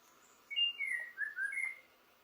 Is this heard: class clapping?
no